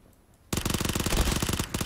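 Mini Uzi fire in a video game: a sudden, loud, rapid full-auto burst that starts abruptly after a quiet moment and rattles on steadily for over a second.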